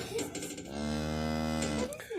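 A cow lets out one long, loud, sustained moo close by while standing near her newborn calf on a farm, with no speech over it.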